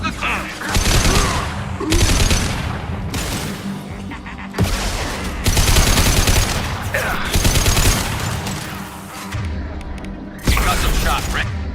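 Repeated bursts of gunfire in rapid volleys, loud and close, broken by short pauses, with voices shouting over parts of the shooting.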